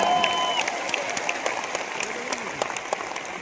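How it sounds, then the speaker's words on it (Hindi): A crowd claps at an event in Delhi, a steady patter of applause with some crowd noise, moderately loud throughout the short stretch. "तालियां हो जाएगा।"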